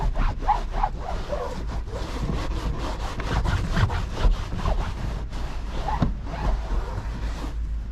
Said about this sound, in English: we're cleaning all the excess moisture up now